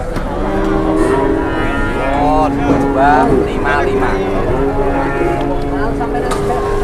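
Cattle at a cattle market low repeatedly in drawn-out moos close by, over a steady murmur of the crowd, and someone speaks briefly.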